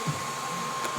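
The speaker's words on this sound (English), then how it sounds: "hairdresser blow drying skills" A hair dryer blows on hair with a steady, close, airy whoosh and a constant motor hum for about a second, with no speech.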